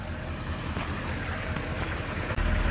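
A pump runs steadily while water drains from a drinking-water hauling tank at night, giving a continuous rushing, wind-like roar up close with a brief dip near the end.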